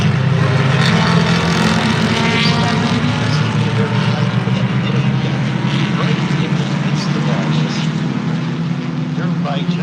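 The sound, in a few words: IMSA RS racing cars starting a race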